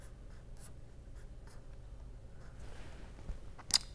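Pen or marker strokes from drawing a chemical structure by hand during a polymer chemistry lecture, a soft continuous scratching with a few brief sharper strokes, close and quiet with no talking.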